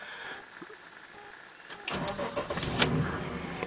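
A LPG-converted Honda Legend car engine cranks and catches at once, settling into a steady running rumble after a quiet start.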